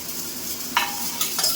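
Tomato and cumin frying in hot oil, a steady close sizzle with a few sharp scraping strokes of stirring in the pan.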